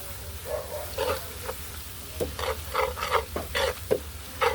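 Melted butter with a little black pepper is stirred in a pan, giving scraping, clicking strokes in uneven bursts over a soft, steady sizzle.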